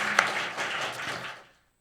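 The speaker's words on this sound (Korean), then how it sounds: "우리 미리 한번 환영의 박수로 한번 맞이하실까요?" A church congregation at a Korean Wednesday prayer service claps to welcome a vocal ensemble, a short burst of scattered applause that holds briefly, then thins and fades to silence.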